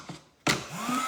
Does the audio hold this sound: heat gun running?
yes